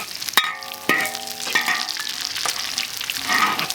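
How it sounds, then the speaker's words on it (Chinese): Garlic and Sichuan peppercorns stir-frying in hot rapeseed oil, a steady close sizzle broken by several ringing metal clangs as the spatula strikes the wok, with no talking. "炒好了，我们下入蒜和花椒"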